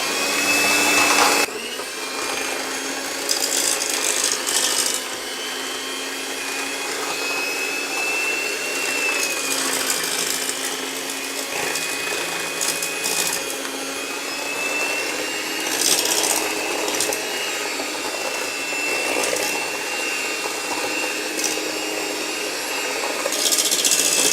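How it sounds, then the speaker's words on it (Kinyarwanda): Sugar and eggs being mixed together for cake batter, a steady whirring and scraping that runs continuously for the whole stretch at an even level. "Tugiye kuvanga isukari n'amagi kugeza igihe bibaye ikintu kimwe."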